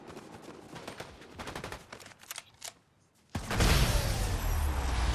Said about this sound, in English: He was shooting. I saw gunshots.